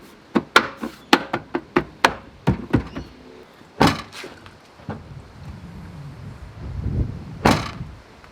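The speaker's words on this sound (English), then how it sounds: "and then just gently tap it in" A boot release switch being tapped into its panel on a car tailgate, making a quick series of sharp plastic knocks, then a few scattered thumps and a softer rustle, close and distinct.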